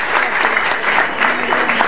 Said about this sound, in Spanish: un fuerte aplauso para Pablito Martín